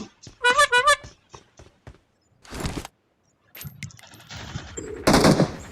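Video game gunfire from PUBG Mobile: a rapid automatic burst near the start, then scattered single shots and a later louder burst, interspersed with game sounds and quiet gaps.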